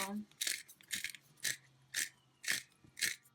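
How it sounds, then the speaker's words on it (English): A hand pepper grinder cranks through a peppercorn medley in a kitchen, giving about seven crisp, gritty crunching bursts in a steady rhythm, close and fairly quiet with no talk. "I actually use this peppercorn medley and it's a grinder"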